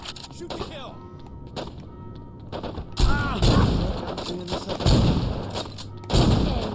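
Bursts of gunfire and heavy thuds in the video game Saints Row 2, loud and repeated across the clip, mixed with game voices and sound effects.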